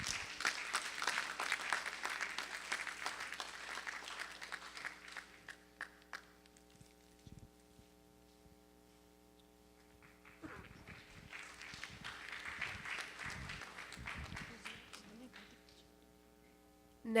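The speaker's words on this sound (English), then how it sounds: "Please give her a round of applause." A seminar audience at a women entrepreneurs event applauds in recognition of an honoree. Steady, dense clapping fills the opening seconds, fades to near quiet, then swells again into a second sustained round.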